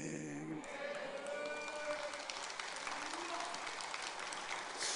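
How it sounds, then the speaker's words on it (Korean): A church congregation's singing of a hymn trails off and gives way to applause, a faint, steady wash of clapping heard from a distance for several seconds. "사람들이 찬송을 부르면 박수치네."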